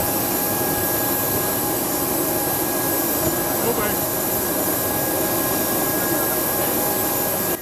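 Jet aircraft at Bangoka International Airport in Kisangani: a steady, loud, broadband engine roar that holds unchanged throughout and fills the whole stretch.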